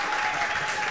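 A church congregation claps together during a service, a dense, steady burst of applause from a crowd that fills the whole short moment.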